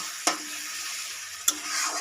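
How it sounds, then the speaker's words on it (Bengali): Onion and tomato fry in oil for a chicken curry, a soft steady sizzle broken by two distinct spatula scrapes against the pan, close by and without talk. "টমেটোটা দিয়ে আমি এবার একটু এটা ভাজতে থাকবো।"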